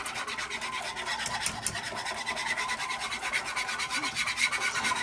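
Flour being stirred into pot roast liquid in a pot to thicken it, a steady close scraping and rasping of the utensil against the pot that runs continuously without pause.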